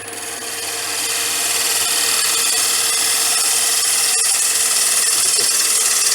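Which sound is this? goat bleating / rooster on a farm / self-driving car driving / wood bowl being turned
wood bowl being turned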